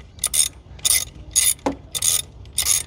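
A ratchet wrench tightens bolts on a Kawasaki Versys 650 motorcycle during fairing and tank work, giving five short bursts of crisp, rapid clicking, close and loud, separated by brief pauses.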